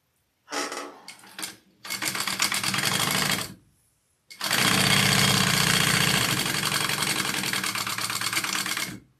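A sewing machine top stitching a small fabric bag runs in loud, close bursts of rapid mechanical chatter, two brief starts, a sustained run, a short pause, then a long continuous stretch of stitching.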